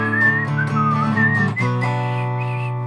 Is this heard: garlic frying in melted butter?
no